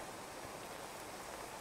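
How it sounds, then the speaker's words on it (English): Rain in the video game Clanfolk hisses as a soft, steady wash of broadband noise, faint and continuous with no voices over it. "Oh, we got rain"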